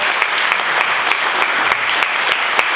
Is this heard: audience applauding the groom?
yes